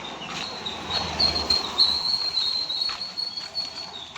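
A train arrives in Bombay with a steady, fairly loud rolling rumble, and a thin high metallic squeal runs continuously over it.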